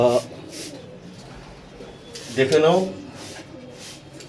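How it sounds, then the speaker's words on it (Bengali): Pigeons coo in soft, throaty bursts, with one louder warbling coo standing out near the middle, while a person talks briefly nearby. "পায়রা"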